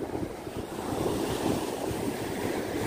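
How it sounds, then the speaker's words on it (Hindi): Ocean waves surge and crash onto the shore at Butterfly Beach in South Goa, a continuous loud roar of surf with wind buffeting the microphone. "देखिए लहरें कैसे उछल उछल कर यहाँ पर आ रही हैं"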